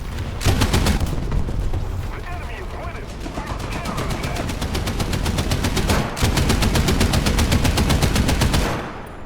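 CM52 Spade anti-aircraft guns in War Thunder fire long rapid bursts of evenly spaced shots, loud and continuous with a brief break, as a player talks underneath.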